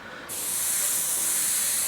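A spray gun spraying UVLS gloss paint with no reducer mixed in kicks on after a brief pause and then holds as a loud, steady, close airy hiss.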